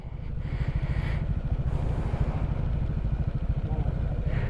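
A motorcycle engine idles steadily and close by on a muddy mountain trail in the Cordillera between Kibungan and Bakun, a continuous low pulsing rumble with faint voices in the background.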